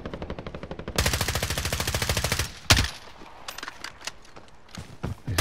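Rapid automatic gunfire in a video game, a long sustained burst of loud evenly spaced shots followed by a heavy single blast and scattered sharper shots further off.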